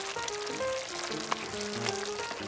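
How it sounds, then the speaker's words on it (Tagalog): Pork tail simmering in vinegar in a pot gives a steady sizzling bubble, with faint scraping of a spoon as it is stirred close by. "Haluin na po natin ngayon ito."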